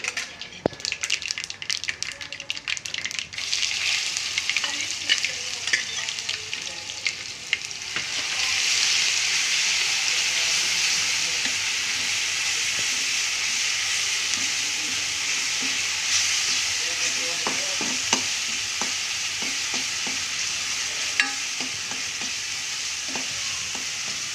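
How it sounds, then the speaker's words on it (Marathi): Steady, loud sizzling of green chili and garlic sautéing in a pan, with occasional stirring scrapes and clicks; no talking. "चांगली परतून घेते हिरवी मिरची लसूण"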